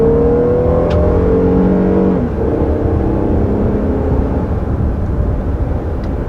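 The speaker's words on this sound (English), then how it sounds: "You know, this is a nice and powerful sounding engine as well." A 2022 Nissan Pathfinder or Toyota Highlander SUV engine drones loudly with rising harmonic tones, then shifts gear through its 9-speed automatic and keeps pulling steadily, heard from inside the cabin.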